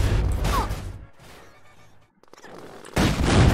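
Bursts of gunfire from the video game GTA San Andreas, dense rapid shots and blasts in two loud clusters with a quieter gap between them.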